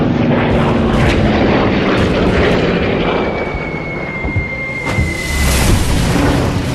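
A WWII dive bomber releasing its bomb below 1,000 feet: a sustained loud roar of aircraft engine and rushing air, with a rising whine and a heavy booming rumble from the blast, continuous and close throughout.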